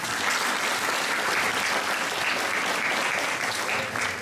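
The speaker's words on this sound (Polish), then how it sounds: "proszę o brawa" Steady, dense applause from a crowd at a county-level rural women's association contest for decorated Easter eggs and palms, welcoming one of the competing teams. The clapping stays loud and unbroken throughout, with no talk over it.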